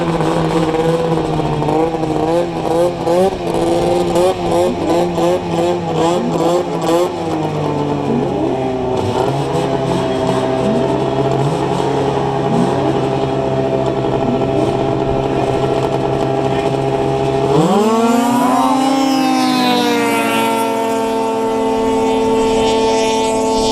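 Polaris snowmobiles racing across water at a watercross event, producing a loud, high-revving engine whine that holds steady, then surges sharply in pitch near the end as the machines push on.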